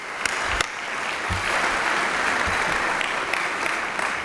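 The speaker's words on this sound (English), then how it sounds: "give yourselves a round of applause" A room of guests at a community fundraising breakfast applaud themselves, producing a sustained, full wash of clapping hands with a few sharper nearby claps poking out, continuous and moderately loud with no speech.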